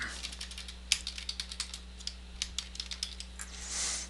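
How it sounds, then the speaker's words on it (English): Computer keyboard being typed on to enter a short phrase, a quick run of crisp individual key clicks close by over a low steady hum, with no talk. "we are going to take this sign and type in the words Doodlebug Tree Farm"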